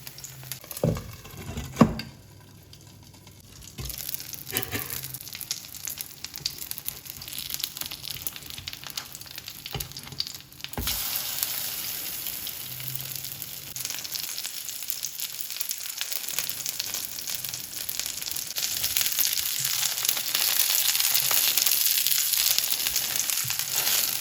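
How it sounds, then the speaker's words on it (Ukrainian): Battered onion rings and tomatoes sizzle and crackle in hot oil in a pan, quiet at first with a few clatters, then a loud steady frying hiss for the rest. "Обсмажую спочатку з однієї сторони, потім з другої сторони до золотистої шкуринки"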